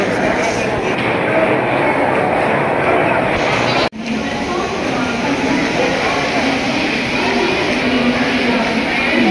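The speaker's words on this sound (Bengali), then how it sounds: "তো আর দেখুন কত ভিড়, প্রচুর ভিড়, এত ভিড়" Dense crowd noise at Mumbai CST railway station, a steady loud wash of station bustle and train rumble, broken by one brief dropout midway.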